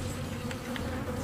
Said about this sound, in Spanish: ¿cómo hay moscas en un juego donde se supone que no debería haber moscas?